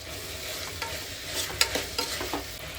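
Mint leaves frying with cashews and ginger-garlic paste in a hot pan, a steady sizzle broken by several scraping stirs, close and moderately loud, with no one talking.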